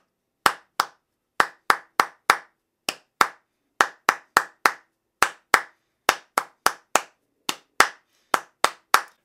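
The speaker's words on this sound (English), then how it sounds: "Try clapping it with me" Hands clap out the calypso or island ukulele strum rhythm, a steady pattern of sharp, close claps in repeating groups with no talking.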